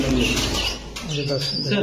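Pigeons cooing at a bird market, soft low coos close by, partly under people talking.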